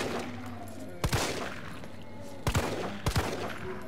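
Gunshots in the Resident Evil 3 Remake demo while shooting zombies: isolated sharp reports in pairs, one single shot then two quick doubled bursts, loud against a low droning game ambience with no talk.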